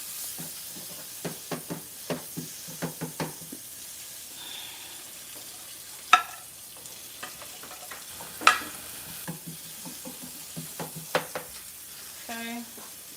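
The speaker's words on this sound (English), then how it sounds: "I know you hear that sound, it's nice and sizzling." Steady sizzling of onions frying in a pan, a soft continuous hiss with occasional clinks and scrapes of stirring, close by.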